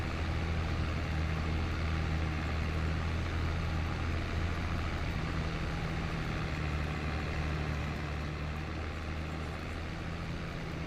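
Steady, low engine rumble from a JCB machine in Farming Simulator 22, a thick continuous drone holding an even loudness for the whole stretch, with no voices over it.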